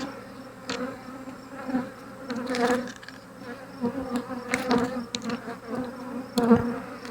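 A steady, dense buzz of many honeybees in an open Flow Hive fills the clip, close up, with occasional louder swells as individual insects pass near.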